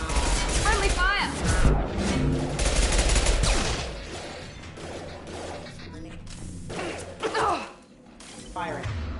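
Mass Effect 2 combat gunfire crackles in bursts alongside clanking mechanical sounds and crashes, loud and busy, with voices talking over parts of the fight.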